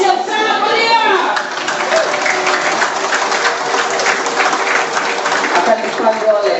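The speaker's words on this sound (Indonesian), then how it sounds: "Berikan aplaus yang sangat meriah." An audience at a business presentation in Jakarta breaks into loud, sustained applause, a dense wash of clapping that holds steady throughout, with voices mixed in beneath it.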